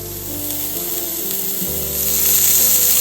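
A burger patty hits a smoking-hot pan and sizzles loudly, a dense close frying hiss that swells stronger partway through and holds steady.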